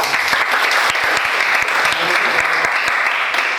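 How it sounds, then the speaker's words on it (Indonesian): A classroom of students claps for a classmate, a loud, dense wash of many hands applauding continuously and close by, with no clear pauses. "Bagus, tepuk tangan buat temannya."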